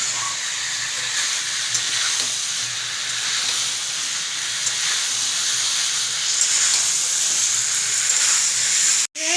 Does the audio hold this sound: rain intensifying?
no